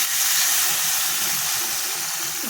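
Water poured into a hot, frying spice paste with tomato for a Bengali fish curry, a loud, steady hiss and bubbling steam right up close, with no talk.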